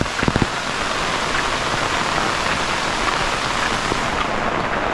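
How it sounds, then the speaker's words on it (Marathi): Heavy monsoon downpour in a Konkan village in Maharashtra, a dense, loud, continuous roar of rain pouring on surfaces, with a few brief knocks at the start and no talking. "कोकणातला पाऊस तुम्हाला भिजवासाठी झालेला असतो"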